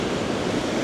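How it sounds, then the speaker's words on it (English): Waterfall in Yosemite roaring as a steady, dense wash of noise up close, unbroken and fairly loud, with wind buffeting mixed in and no voices. "To the next point, which is this lovely waterfall right here."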